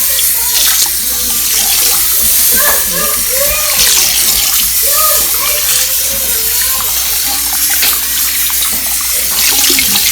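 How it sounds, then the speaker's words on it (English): Water runs steadily from a tap, splashing and gurgling into a bowl of seasoned chicken with a constant rushing hiss, while a person talks over it. "Add some water."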